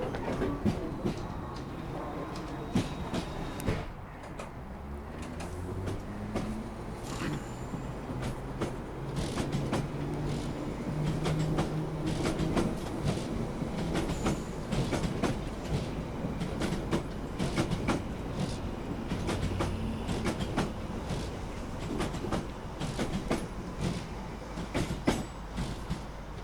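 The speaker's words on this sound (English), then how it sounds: "This train terminates here." A train running in London gives a continuous rumbling ride with dense, rhythmic clickety-clack wheel beats and occasional sharper knocks, close and steady for the whole stretch.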